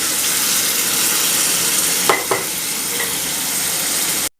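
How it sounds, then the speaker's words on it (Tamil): Tomatoes and capsicum cooking for pav bhaji, a loud, dense, steady sizzle filling the pan with a couple of brief stirring scrapes partway through, then cutting off abruptly at the end, no talking. "தக்காளியும் குடமிளகாயும் சேர்த்துக்கிடலாங்க. இது குக் ஆகட்டுங்க. இப்படி இது ஒரு 5 நிமிஷம் இடையில கிளறி விட்டுக்குவோம்."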